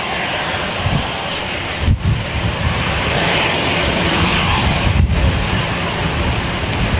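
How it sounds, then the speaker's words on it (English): An EasyJet Airbus A320 jet touches down at Manchester Airport with a loud, sustained broadband engine and airframe roar, steady for several seconds and buffeted by wind noise on the microphone. "EasyJet A320 just touching down"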